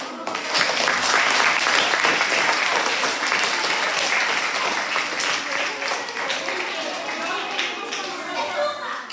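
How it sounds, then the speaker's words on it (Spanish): Sustained audience applause after guests are introduced at a viola da gamba concert, dense steady clapping that rises loud at the start and continues evenly with a light murmur of voices underneath. "Les damos un aplauso a los tres."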